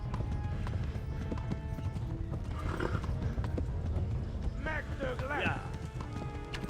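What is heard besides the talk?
horse cantering in video game Kingdom Come: Deliverance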